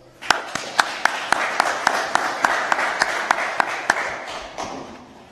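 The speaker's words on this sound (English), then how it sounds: "Ladies and gentlemen, a round of applause." An audience applauds at a public political meeting in West Basseterre, with loud, sustained clapping in a room and sharp rhythmic claps on a regular beat that fade toward the end.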